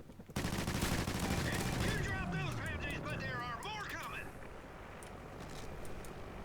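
Sustained automatic gunfire emptying a full magazine in Call of Duty Ghosts, a dense rapid burst that tails into scattered shots over game noise, close and loud.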